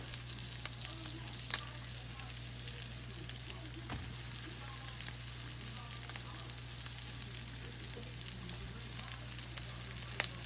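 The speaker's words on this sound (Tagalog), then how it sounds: "lalakasan natin ng konti para gisa-gisa lamang" Food sautéing in a pan, a soft continuous sizzle with occasional small pops, a steady electrical hum underneath and no talking.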